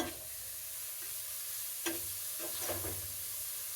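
Grated beetroot and carrot fry for halwa, giving a soft steady sizzle with a few close scraping stirs of a spoon partway through; no one speaks.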